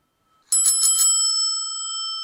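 A Dutch Altra bicycle bell gives three quick, bright rings close by, then leaves a long, clear metallic tone hanging and slowly fading.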